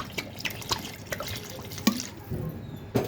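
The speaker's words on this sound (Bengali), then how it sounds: "দিয়ে দিচ্ছি পানি" Water is poured into cooking beef and chicken gravy, giving scattered close splashes and drips of moderate loudness with soft liquid clatter between them.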